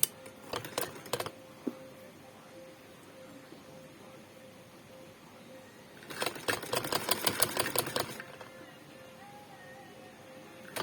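A sewing machine stitching a frock with a yoke and gathered skirt, two short bursts of rapid mechanical clatter, one brief near the start and a longer run later, close and moderately loud over quiet room tone.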